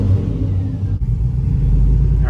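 A Chevrolet Silverado truck engine on its first test drive after an oil catch can install, its steady, loud rumble and low drone continuing throughout with slight revving and no talking.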